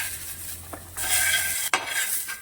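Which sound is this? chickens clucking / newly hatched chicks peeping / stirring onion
stirring onion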